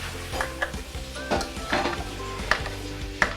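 Beehoon rice noodles being cut in a pot, with a few sharp metallic clinks and scrapes of utensil against the pot over a low kitchen background hum.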